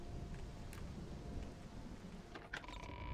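Rain falls steadily in the video game Morrowind, a soft continuous hiss with faint patters and a few brief clicks and tones from the game, quiet throughout.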